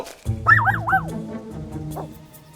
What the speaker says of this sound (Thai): กลับมีเพียงลูกสุนัขตัวหนึ่งที่เห่าใส่นางอย่างตื่นเต้น